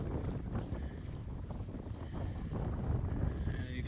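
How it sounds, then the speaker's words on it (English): Steady wind gusting over open lake water while kayaking, a dense continuous rush with a low rumbling buffet on the microphone and faint lapping water underneath, no voices. "I'm going to be fighting the wind a little bit"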